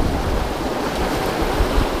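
Atlantic swell rushing past a sailboat on the trade wind route in force 5 wind. A steady, loud, broadband wash of water and wind noise runs throughout, with low surges and no voices.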